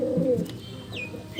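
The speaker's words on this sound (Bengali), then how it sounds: "এটা একটা নর পায়রা।" A male pigeon, a flying-breed bird, gives a short, close, low coo, followed by a faint, brief chirp.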